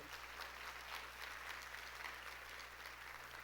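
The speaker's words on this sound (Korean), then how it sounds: "깨달은 사람만 박수 쳐요." Church congregation clapping during a sermon, faint and distant continuous applause over a low steady hum.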